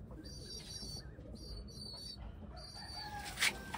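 A medium-size Taiwan rooster calls in short, fairly faint bursts with brief pauses between them, set against a quiet background.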